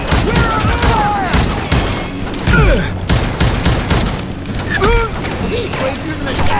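Gunfire in the Western shooter game Call of Juarez Gunslinger, repeated loud shots and booms in a chaotic fusillade mixed with shouting voices and whizzing ricochets throughout.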